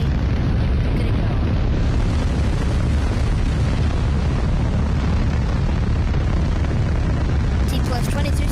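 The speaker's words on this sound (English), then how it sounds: "You can see the beautiful rocket clearing the tower successfully." Gemini rocket launch in a Roblox game: a continuous heavy low roar that stays loud and steady throughout, with no talking.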